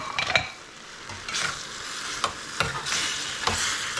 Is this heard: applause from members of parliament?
no